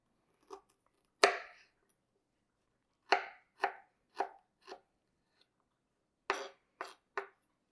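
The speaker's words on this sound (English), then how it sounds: "just kind of small chop your ginger" A knife chops ginger on a cutting board in short, crisp close strikes, one loud single hit, then a quick run of four and a final cluster of three, separated by silence.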